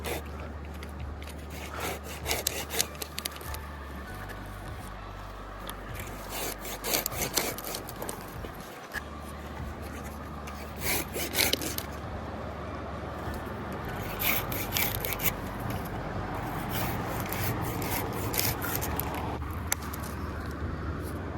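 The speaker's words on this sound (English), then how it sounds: "I'm just gonna use my handsaw around it just to be safe." A handsaw cuts through wood in a tree, its strokes sounding as repeated rasping bursts over a low steady hum, moderately quiet and somewhat distant.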